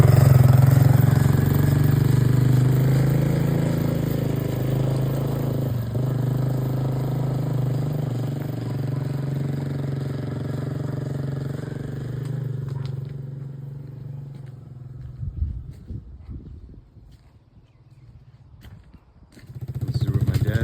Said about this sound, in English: He's on an ATV and riding around the neighborhood